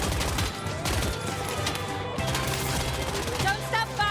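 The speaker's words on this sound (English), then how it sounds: "Don't stop firing." Rapid bursts of video game gunfire crackle densely through a shooter scene, with continuous volleys and explosions layered under game audio and voices.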